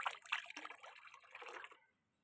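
Gas hisses out as a container of fermented yeast mixture, made as an insecticide for white insects, is opened: a soft, close, airy rush with some watery fizz that gradually fades to silence after about two seconds.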